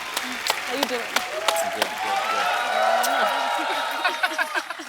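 A television comedy show's studio audience bursts into applause as a singer arrives, a steady wash of clapping that swells in the middle and thins into scattered claps, with voices talking over it.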